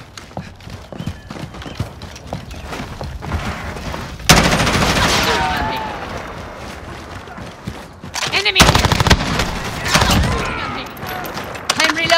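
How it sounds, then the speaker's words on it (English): Rapid bursts of gunfire in the video game Call of Duty: Modern Warfare, some in fast automatic volleys, loud and close, with people shouting in between. "Under fire! Taking fire!"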